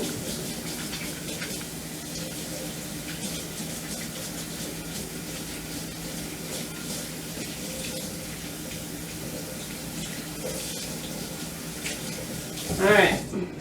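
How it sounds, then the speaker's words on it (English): Water runs steadily from a kitchen sink tap while hands are washed under it, a continuous close rushing stream with a brief louder splash near the end; a voice is faintly present beneath. "Let me wash my hands."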